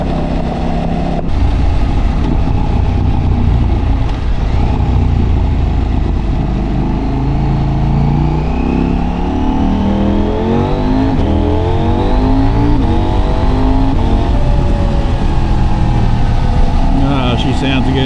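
A 2025 Husqvarna Svartpilen 801 motorcycle fitted with an Ixil slip-on exhaust runs loud and close, holding a deep, throaty drone as the revs swell and rise in pitch throughout.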